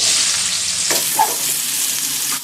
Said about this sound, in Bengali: মাছ ভাজা তেলেই দিয়ে দিচ্ছি পেঁয়াজ কুচি